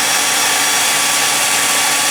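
A hair dryer blows steadily to warm the mechanical dashboard clock of a 1964 Dodge Polara that stopped in freezing weather, a loud continuous whooshing hum with no break or speech.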